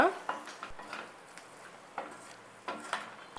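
Masala paste frying in a pan for paneer curry, stirred with a spoon that clinks and scrapes against the metal in a few separate bursts over a quiet low sizzle.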